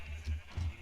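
Two short bleats from a sheep in Minecraft, nasal and low, each lasting about a quarter second with a brief pause between.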